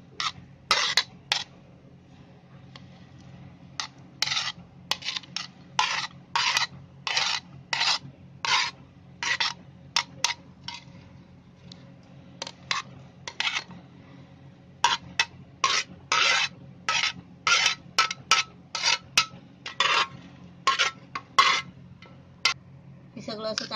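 A whisk beats egg and milk with salt in a bowl, making a quick run of sharp, rhythmic scraping strokes in bursts with short pauses between them, close and clear.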